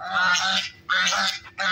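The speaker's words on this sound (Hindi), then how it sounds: "बतखें भी जो है ना वो शोर बहुत करती हैं" Ducks in a village make loud, harsh honking calls, three brassy blasts in close succession with brief gaps, near and prominent with no talk over them.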